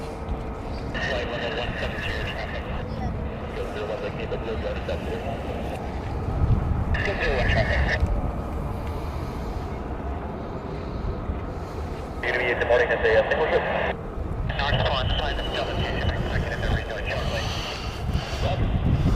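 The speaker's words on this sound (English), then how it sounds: "I hear more F-35s running." F-35 fighter jets running at RAF Lakenheath, heard as a distant, continuous engine roar with rising and falling whine, while someone talks throughout.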